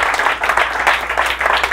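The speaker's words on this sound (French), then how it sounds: "Est-ce qu'on peut applaudir pour ça?" Audience applause at a comedy club show, a dense burst of clapping that stays loud and steady throughout with no voices on top.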